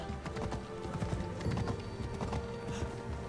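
Horse galloping in the game Assassin's Creed Odyssey, a steady rapid clip-clop of hooves close by with an occasional whinny and faint game ambience behind.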